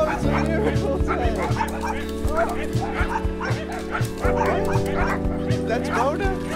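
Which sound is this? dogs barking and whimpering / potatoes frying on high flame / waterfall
dogs barking and whimpering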